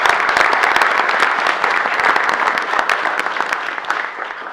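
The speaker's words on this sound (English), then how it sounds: "So let's give him a big round of applause." Steady, full-room applause from an audience at a city council meeting, many hands clapping together and slowly easing off toward the end.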